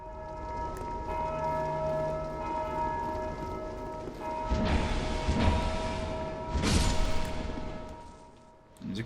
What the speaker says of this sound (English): that bell summons these Grim Reapers here